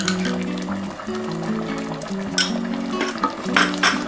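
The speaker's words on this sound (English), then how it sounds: "Here goes in some more butter." More butter dropped into a pot of simmering daal makhni, a soft wet plop and a few light metallic clinks of the pot and spoon over background music.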